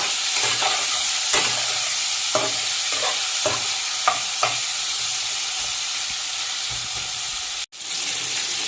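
Pieces of pointed gourd fry with salt and turmeric in hot oil for a fish curry, giving a steady bright sizzle. A few soft clicks of a stirring utensil sound under it, ending in one sharp knock.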